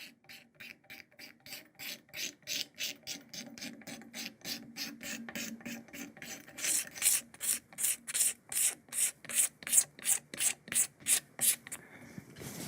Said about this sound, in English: come in with a razor blade and use that as a squeegee and just kind of scrape things back